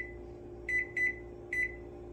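Air fryer set to 375 degrees cooking zucchini fries, giving a steady hum under three short electronic beeps in a quick pair and then a single one, all close and clear with no talking.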